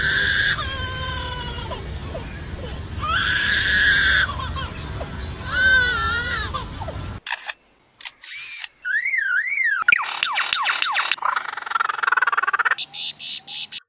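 An Australian lyrebird at a zoo mimics a crying human baby with loud wailing sobs and whimpers, then shifts to chirps, whistles and clicking calls, close and clear.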